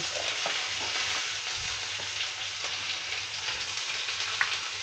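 Oil heating in a kadai with a steady, close broadband sizzle throughout, a few small clicks and ticks, and no voices.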